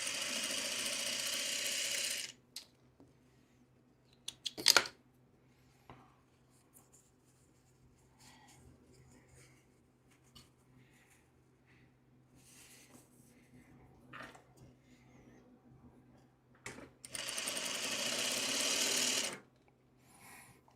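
A sewing machine stitches Dresden quilt pieces in two short bursts of close, steady whirring at the start and near the end, with quiet handling clicks and faint rustling between them.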